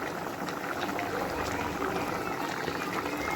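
Continuous bubbling and hissing of a pot of black bean curry at a rolling boil, close and steady throughout, with no pauses.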